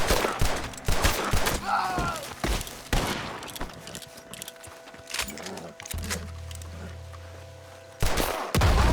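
Gunfire in a shootout in Red Dead Redemption, a rapid volley of sharp shots opening the clip, then scattered reports and rumbling background as the fight continues, ending with another loud burst.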